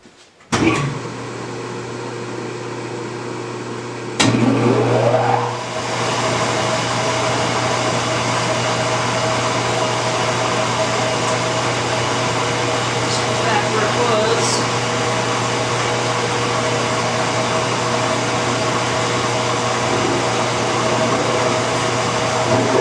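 A K&T milling machine cutting a rack, with a steady loud mechanical hum and whine that starts sharply after a brief quiet moment and runs on continuously with faint higher tool tones.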